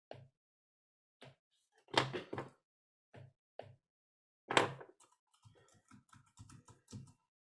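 Someone types on a computer keyboard in quiet, irregular bursts of close, crisp key taps, with short gaps between clusters.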